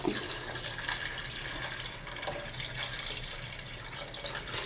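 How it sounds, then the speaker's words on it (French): Water pouring steadily from a tap into a pot of caramel pork, a continuous close rushing splash that holds from start to finish with no voices. "Vous ajoutez de l'eau à hauteur."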